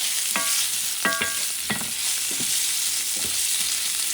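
Salchichon sausage browning in a frying pan, with a steady sizzle broken by several short scraping stirs at a modest, close level.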